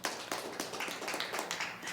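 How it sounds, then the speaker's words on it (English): Round of applause from a studio audience, a brief burst of many hands clapping in a quick, uneven patter, moderately close and without voices on top. "Give her a round of applause."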